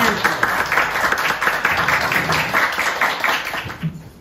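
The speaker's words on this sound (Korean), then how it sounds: "열렬한 박수로 천정환 선생님 환영해주십니다" Applause from a lecture audience welcoming a modern cultural history professor at the start of a talk, a dense steady patter of many hands clapping close by for several seconds before fading slightly at the end.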